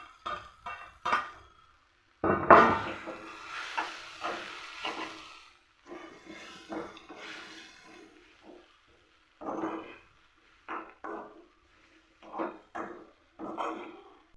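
Fried elephant foot yam being stirred and mixed in a pan while making chena mezhukkupuratti, with a series of intermittent scraping, rustling stirs separated by short quiet gaps.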